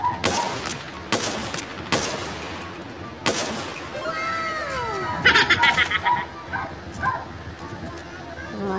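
Gunfire in the mobile shooter Call of Duty Mobile: several loud separate shots early, then a denser rattling burst of fire, with a player talking over the game sounds.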